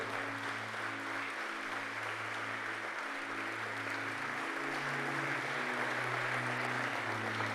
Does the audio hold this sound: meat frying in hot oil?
no